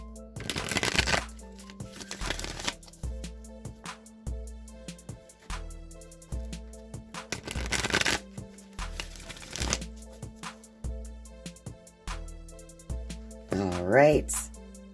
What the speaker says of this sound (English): Now I'm just going to shuffle the wisdom of the Oracle deck 3 times